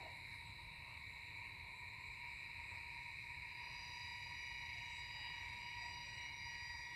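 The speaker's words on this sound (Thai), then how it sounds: "ตรงนี้ก็จะเป็นเสียงแมลงว่างนะครับ" Insects chirp steadily across rice fields, a dense, continuous high-pitched trill with layered tones that holds evenly throughout, quiet and without voices.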